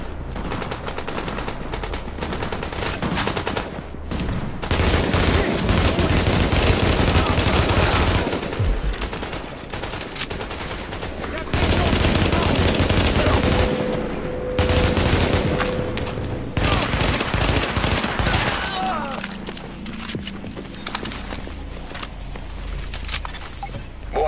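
Sustained gunfire from the game Tom Clancy's The Division, set in Times Square, with dense overlapping automatic bursts and rattling shots that continue almost without pause and come in surges of louder volume.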